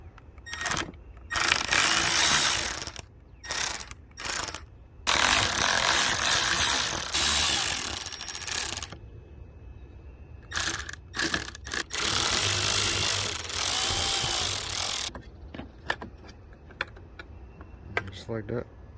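Bursts of rapid ratchet clicking loosen the 7/32 bolts on the headlight trim of a 2004 Chevrolet Suburban, Tahoe or Silverado truck, close and loud, with repeated runs separated by short pauses.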